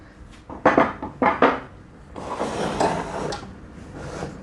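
Parts of a Stanley SM16 mitre saw being fitted together as its extension base goes on: a few sharp clacks and knocks up close, then a longer scraping, sliding rattle of metal parts.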